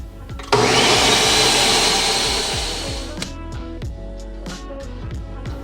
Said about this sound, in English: now we just need to blend this bad boy till she's smooth